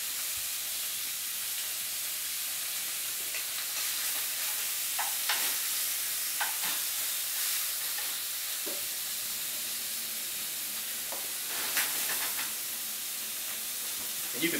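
Meat sears in a hot pan with a steady, soft sizzle throughout, broken now and then by brief louder crackles and spits.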